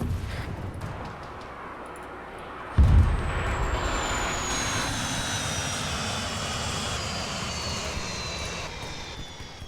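Rockets roar through a sci-fi orbital insertion battle in the video game Starfall, a broad jet-like rush that jumps sharply louder partway through and holds as a steady roar with a high whine descending in pitch.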